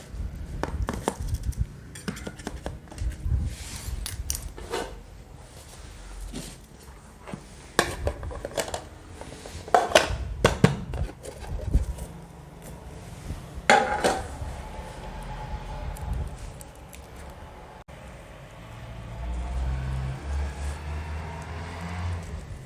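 A knife scrapes and clinks around the sides of a metal pan to loosen an oven-free cake, giving scattered sharp metallic ticks and scrapes at close range, followed by a duller rumble near the end, with no talking.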